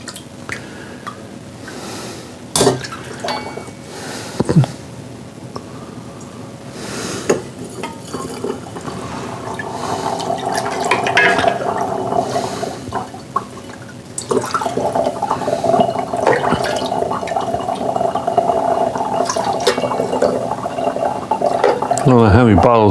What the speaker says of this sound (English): All right, so let's bottle this up.